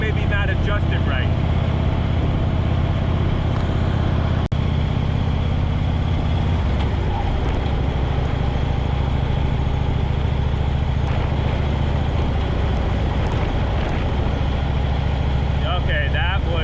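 A vehicle fitted with Super Shox shocks drives over a rough, bumpy patch; a continuous engine drone with low rumbling runs the whole time, with a sharp knock midway.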